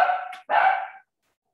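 Indoors at home a dog gives two loud, close barks in quick succession, the second slightly longer, then silence follows.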